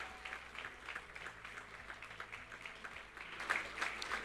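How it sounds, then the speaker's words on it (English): A festival opening audience of participating institutions claps together in a soft, steady patter heard from a distance, swelling slightly near the end. "do you want to give yourselves a round of applause?"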